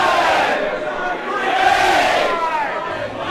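Wrestling arena crowd chanting a pin count in unison, a loud, dense mass of voices sustained throughout with rhythmic swells and no other sound breaking through.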